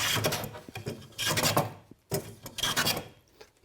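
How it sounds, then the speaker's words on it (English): A hand plane shaving along a wooden cap on a V-bottom skiff, heard as close, rasping strokes in two main passes with short gaps between them. "When I plane it, you'll hear it planing in here."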